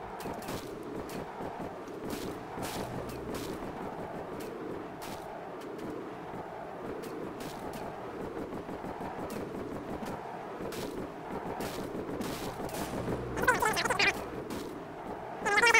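Missiles keep slamming into a disabled enemy vessel without engine power in a combat video game: a steady barrage of muffled booms and mechanical rumble repeats throughout, rising into a sharper burst near the end.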